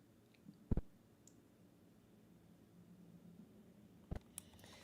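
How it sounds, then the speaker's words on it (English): Keys on a bouncy, springy, clunky computer keyboard clack in two short, close clusters of sharp clicks separated by several seconds of quiet room tone. "Now my keyboard is just very bouncy and springy. That's why it sounds so loud."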